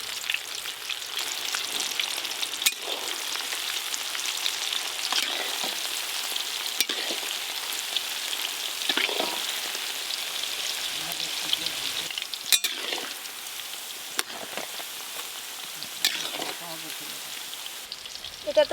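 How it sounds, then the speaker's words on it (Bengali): Cauliflower popcorn pakoras deep frying in hot oil over high heat, a dense continuous crackling sizzle with occasional stir clatter, steady and close throughout. "এবার ফুলকপির পপকর্ন পকোড়াগুলো ভেজে নেব"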